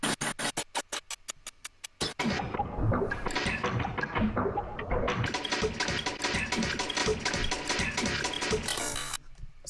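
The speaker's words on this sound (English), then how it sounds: "I took the original file and I warped it and I resampled it" A song's audio warped, time-stretched and resampled into choppy, stuttering fragments: sharp rhythmic bursts at first, then a dense, smeared musical wash with rapid repeated hits, loud throughout with no talking.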